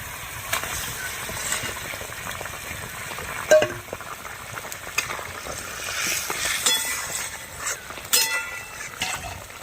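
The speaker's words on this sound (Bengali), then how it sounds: "এবার আমি মাছগুলো দিয়ে দিচ্ছি।" Koi fish going into boiling gravy and cooking, with a bubbling, sizzling simmer under scattered light clinks and knocks of utensils and one sharp thud early on, and no speech.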